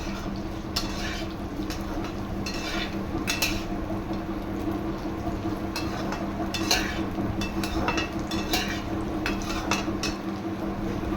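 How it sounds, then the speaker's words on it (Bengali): Boiled potatoes frying in a pan, with a steady background sizzle, intermittent metallic scrapes and clinks of a spatula stirring against the pan, and a constant fan hum throughout. "এই যে দেখতেই পাচ্ছ আলুটা ভাজা হচ্ছে সুন্দর করে"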